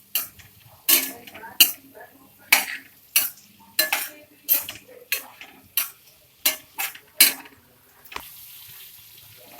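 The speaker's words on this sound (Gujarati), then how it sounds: "હવે તેમાં બાફેલા બટાકાના કટકા આપણે ટુકડા નાખી દઈશું અને થોડી વાર હલાવીશું" A spoon scrapes through boiled potato pieces and spiced masala in a pan while making batata poha. About a dozen crisp, rhythmic stirring strokes sound close by, then a softer pause closes the stretch.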